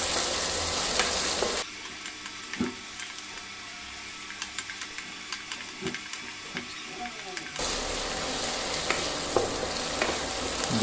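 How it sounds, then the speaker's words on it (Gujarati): Onions fry in a pan, a bright hissing sizzle that drops to a quieter crackle with small stirring clicks in the middle, then returns loud and full. "આપણે ડુંગળીને એકાદ મિનિટ સુધી શેકી લઈશું."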